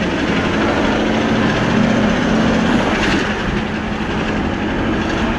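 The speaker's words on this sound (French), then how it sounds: "Enfin le piston là comme il vient taper." A loud, constant mechanical roar fills the recording, with a dense rattling texture of a piston knocking in the engine up close.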